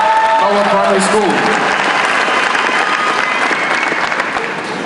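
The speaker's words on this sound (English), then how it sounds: "let's give them a warm round of applause" Warm applause fills a memorial service hall, starting under a brief spoken voice and continuing as a thick, steady wash of clapping that gradually eases.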